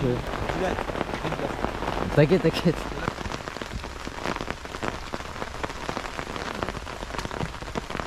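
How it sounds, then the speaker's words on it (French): Steady rain patters on surfaces during an outing to a surf spot, a continuous hiss with scattered drops, while people talk briefly over it. "Ah il pleut."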